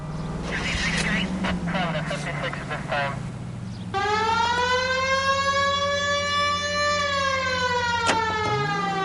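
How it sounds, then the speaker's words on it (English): Police car siren in the video game L.A. Noire wails loudly after a few seconds of voices, its rising and falling tone holding steady over engine rumble to the end. "We have a siren."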